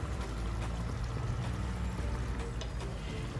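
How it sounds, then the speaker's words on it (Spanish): Adobo marinade pours into a pan of pumpkin with blood sausage, bread soaked in vinegar and a little water: a steady, close liquid pour and wet sizzle that runs continuously with no talk. "Ahora ya se le echa el adobo."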